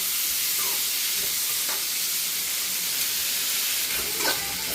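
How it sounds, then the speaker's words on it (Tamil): Steady hissing sizzle of tomatoes sautéing in a hot pan, with occasional faint scraping from stirring, constant and close throughout. "தக்காளி போட்டுக்கலாம் தக்காளி நல்லா வதங்கட்டும்"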